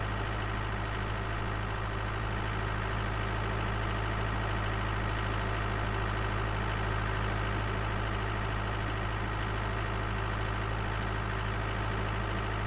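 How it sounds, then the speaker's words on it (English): Constant heavy drone of a farm tractor engine working hard in a field while fertilizing, a loud, unbroken low hum with steady mechanical texture and no voices. "Every last little bit of horsepower this tractor got,"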